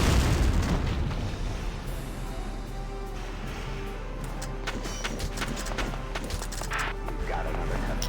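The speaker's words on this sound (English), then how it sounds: "Back up a bit, so that way we're close to the explosion" An explosion in the war game Valkyria Chronicles, a loud booming blast that opens the clip, then a long rumbling, crackling tail with scattered debris clatter and smaller impacts.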